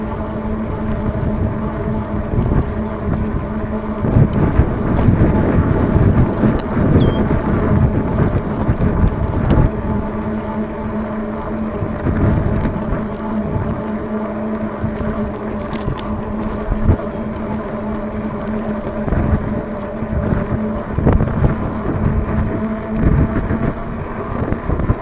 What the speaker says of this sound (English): you get a little bit of tire rumble, I can hear it